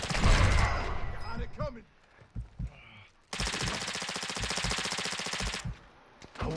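Gunfire rattles through a battle royale video game, starting with a heavy burst, then scattered single shots, then a long loud rapid machine-gun stream. Voices shout in between.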